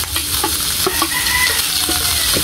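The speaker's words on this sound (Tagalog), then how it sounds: "At halo-haloin po" Shredded chicken for chicken pastil being stirred in a pan, with loud, continuous sizzling and scraping strokes of the spoon close by and no talking.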